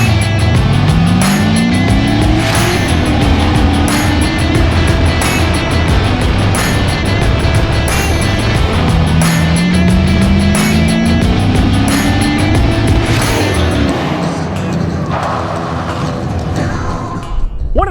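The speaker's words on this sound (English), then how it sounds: "competitors pilot their truck through a coned-off course and try to get the lowest time" A pro touring truck at an autocross shootout rips through a coned-off course, its engine loud and continuous as it revs up and down in rising sweeps, with tire and mechanical noise throughout and no talk.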